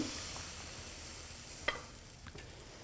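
Thin Icelandic pönnukökur pancake batter frying in a pan on a home stove, giving a soft, steady, fairly quiet sizzle with a faint clink or scrape partway through.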